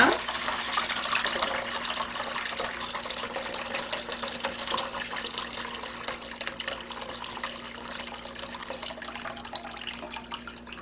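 Brine from salted radish being poured off, a steady splashing stream of liquid close by that slowly tapers in force, with a voice heard over it.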